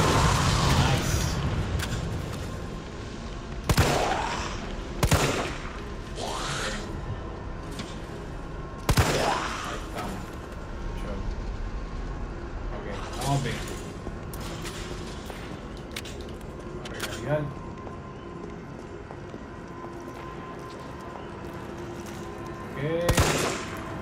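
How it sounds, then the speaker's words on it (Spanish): Pistol gunshots in the Resident Evil 3 demo, a run of loud sharp cracks spaced irregularly over several seconds, with game ambience and effects between them and a voice talking at times. "Hasta los efectos de sonido de la pistola son mejores"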